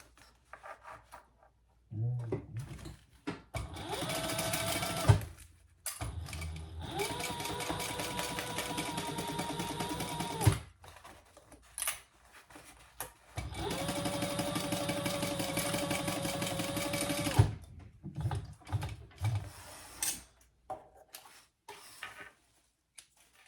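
A sewing machine stitches a crossbody bag in two long steady runs, starting and stopping with short pauses and rustling of fabric between bursts.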